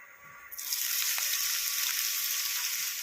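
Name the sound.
chopped onion frying in a pan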